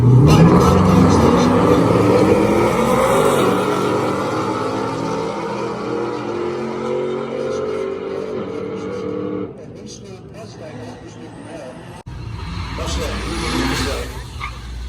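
A turbocharged 4.3-liter all-wheel-drive GMC S10 pickup at a drag strip winds up through a loud climbing engine roar that fades into the distance, followed by a gap and quieter returning noise, with a commentator talking throughout.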